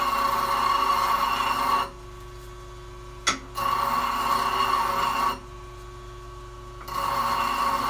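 Sharpening of a high-speed steel lathe parting blade, worn and heat-burnt: bursts of steady broadband grinding that start and stop in passes, with a short sharp click between, no talk.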